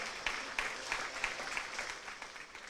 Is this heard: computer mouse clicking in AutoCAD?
no